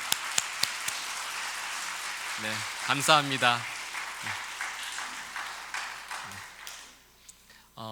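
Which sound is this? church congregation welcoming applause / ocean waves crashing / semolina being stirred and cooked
church congregation welcoming applause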